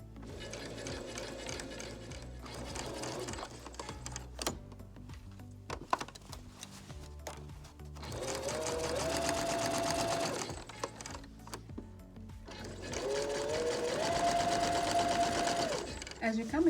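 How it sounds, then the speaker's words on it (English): A sewing machine stitches around the edges of layered fabric for a pillowcase shirt, whirring loudly and close in several long runs, with pauses and handling clicks between them, while a person talks over parts of it. "Then you start sewing around, but make sure that the fabric on top and the fabric underneath is lying flat."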